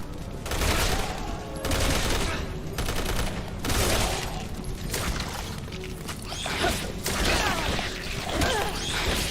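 Gunfire in Resident Evil 6, with dense bursts of shots and mechanical clatter repeating roughly every second, loud and close, with some voice mixed in underneath.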